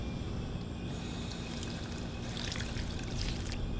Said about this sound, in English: A water fountain.